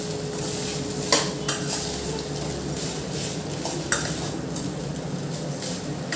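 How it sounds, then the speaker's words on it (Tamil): Tempered rice being stirred in a pan with salt, giving a steady soft scraping with a few sharp utensil clicks against the pan, close by and alone. "நல்லா நம்ம தாளித்த இதை எல்லா சாதத்துலேயும் படுற மாதிரி நல்லா கிளறி விடலாம்."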